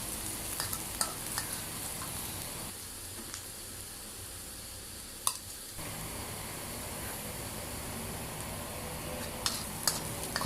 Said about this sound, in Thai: ใส่กระเทียมเข้าไปครับเคี่ยว ให้หอมนะครับ